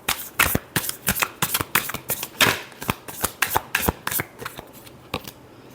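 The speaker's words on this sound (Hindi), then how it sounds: "Last shuffle." Tarot cards shuffled by hand in a steady run of crisp, papery riffles and slaps, about a dozen close, distinct bursts over several seconds with no voices.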